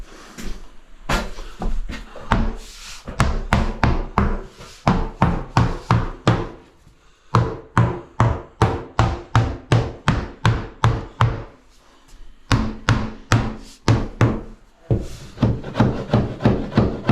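Repeated dull, solid knocks on wood come in quick bursts with short pauses, a rubber mallet thudding steadily against a UJ board panel, loud and close.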